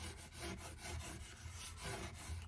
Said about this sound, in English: lay it flat down and take your bone folder and burnish